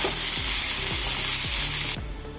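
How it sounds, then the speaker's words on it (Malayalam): Sliced onions fry loudly in hot oil with fennel seeds, a bright crackling sizzle up close, while a spatula stirs in four regular low scraping sweeps before the hiss drops abruptly quieter. "ഇനി സവോള അരിഞ്ഞ് ചേർത്ത് കൊടുക്കാം നമുക്കൊന്ന് ഇളക്കി കൊടുക്കാം"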